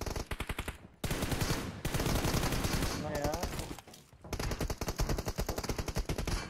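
Rapid gunfire rattles in bursts through an online shooter match, with pistol shots among the fast repeated cracks and brief pauses between volleys, while players talk over the shooting.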